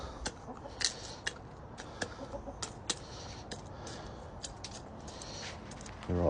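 Scattered short clucks from several chickens over steady outdoor background noise, irregular and moderately close, with a louder sound at the very end.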